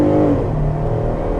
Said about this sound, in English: here's the thing about having a V6 engine as opposed to a turbo 4-cylinder or a V8